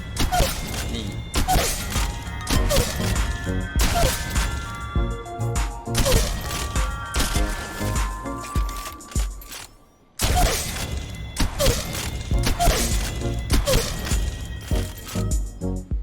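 Repeated shotgun blasts from a shooting training drill in the mobile video game Apex Legends Mobile, loud sharp reports in steady bursts over constant game background noise, with a short silent gap midway before the firing resumes.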